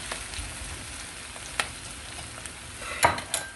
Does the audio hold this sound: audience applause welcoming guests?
no